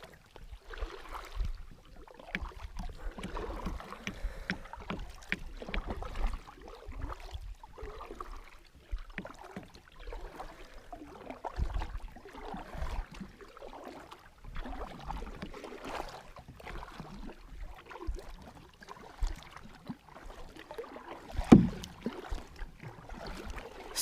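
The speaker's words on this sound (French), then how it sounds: "On met le kayak à l'eau, puis on s'en va à la pêche." Kayak being put into the water in a northern Quebec forest setting: irregular splashes, water lapping and knocks against the hull, with outdoor wind noise, fairly close, no one talking.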